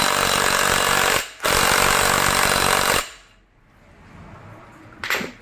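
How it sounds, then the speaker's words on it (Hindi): A power tool rattles loudly and steadily, tightening a nut on a motorcycle during a repair, with a short break partway through, then it cuts off into a quiet background and one brief clank near the end. "फिर इस नट को टाइट करना है।"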